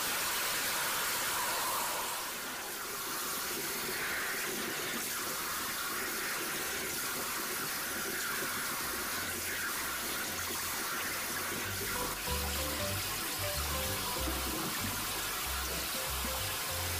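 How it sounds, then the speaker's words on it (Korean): Tap water runs steadily over perilla leaves and red chilies being washed in a sink, a constant hiss of flowing water with soft splashes and low handling noises near the end. "홍고추도 꼭지를 떼고 같이 씻어줍니다."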